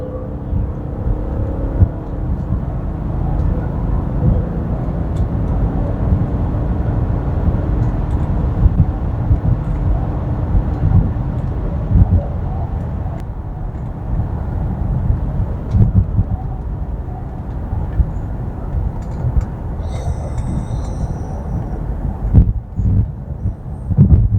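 Mercedes-Benz S350 W221 saloon driven uphill at full throttle on fresh asphalt, with the rear stepping out slightly: a sustained, rough engine and road roar from the cabin, continuous for about twenty seconds, with a brief chime near the end.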